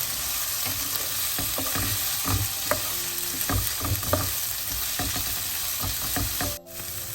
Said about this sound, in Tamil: மரக்கறி நல்லா வதங்கிட்டுது